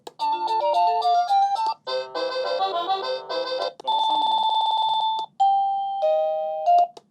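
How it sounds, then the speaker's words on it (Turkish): A loud electronic alarm chime from sleep earbuds plays a run of melodic tones, then shifts through several different beeping and ringing tone patterns, each cutting off abruptly. "Ta alarmını da öttürmüş olduk bu arada."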